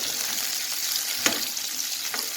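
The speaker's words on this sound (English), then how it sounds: "Now we will just keep frying." Sliced bitter gourd frying in a pan for a Punjabi masala dish, giving a steady broadband sizzle with a brief louder crackle and a few small stirring knocks, close and continuous with no talking.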